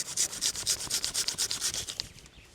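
Hand saw making a test cut through wood at a camp, about a dozen rhythmic rasping strokes, close and fairly loud, stopping near the end.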